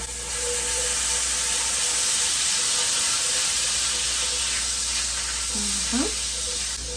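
Butter sizzles and hisses steadily in a hot pan that has just been used for cooking vegetables, a continuous broad frying noise throughout with a brief scrape near the end.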